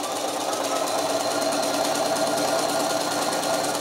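Sewing machine stitching a bridal bouquet quilt border, a steady, close mechanical hum with a rapid even rhythm running throughout without pause.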